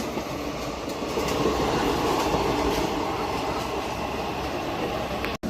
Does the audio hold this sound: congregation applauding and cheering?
no